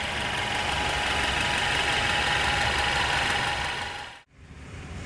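A 2017 Mercedes-Benz E300 with a 2.0 L turbocharged four-cylinder engine idles in a steady, even hum for about four seconds, then cuts off abruptly before a fainter murmur resumes.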